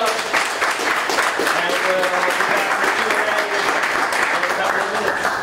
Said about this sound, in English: let's give Lucinda a round of applause